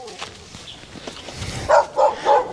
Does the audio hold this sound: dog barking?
yes